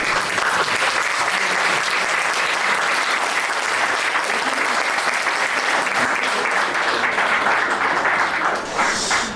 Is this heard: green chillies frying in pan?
no